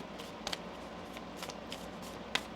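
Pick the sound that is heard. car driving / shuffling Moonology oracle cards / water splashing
shuffling Moonology oracle cards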